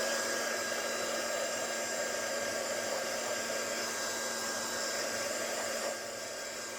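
A craft heat tool drying Distress Oxide ink blows with a steady, even whirring hiss close up, with no talking over it.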